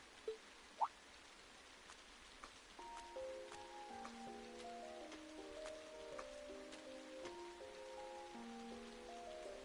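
Light rain patters continuously in the Trails of Cold Steel video game, a soft hiss with scattered drops under a gentle melodic music line, with two brief clicks at the start.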